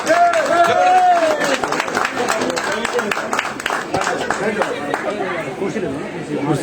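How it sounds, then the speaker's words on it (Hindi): Audience applause at a seminar hall gathering, a burst of crowd clapping mixed with chatter and voices talking over it throughout. "एक बार जोरदार तालियां होनी चाहिए।"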